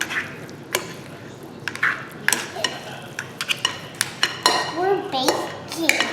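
Egg salad being mixed in a bowl, with clinking and scraping of a utensil against the bowl in irregular bursts, close up, while a child and an adult talk over it.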